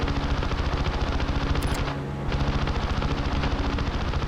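Hurricane fighter machine guns rattle in the Wings of Prey flight game, a loud continuous stream of rapid fire with a brief pause midway before the burst resumes.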